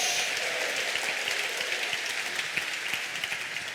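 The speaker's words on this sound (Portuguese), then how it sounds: "Dá uma salva de palmas ao Senhor" A church congregation claps together in a sustained round of applause during a worship service, a steady mid-level patter of many hands throughout.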